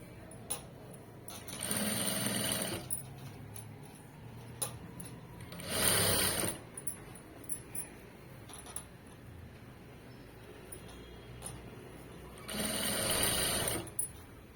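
A home sewing machine stitches piping onto fabric in three separate bursts of rapid whirring, each lasting about a second or two, with quiet pauses and small handling clicks between them.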